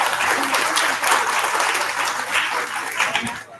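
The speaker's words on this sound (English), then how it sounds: "Round of applause to all of them." Dense, steady applause from an audience at an engineering college boot camp session, filling the whole stretch at close range with no clear speech over it.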